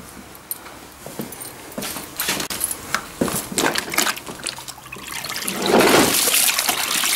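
Water trickles and splashes as a beekeeper's wax-melting pot is tipped over, a run of uneven liquid dribbles growing into a louder, steadier gush toward the end, with some clinking handling noise.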